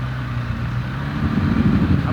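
A Porsche Panamera 4S pushes through deep snow with its skid plate scraping, giving a steady low engine rumble that swells slightly toward the end, loud and close, with no clear talk over it.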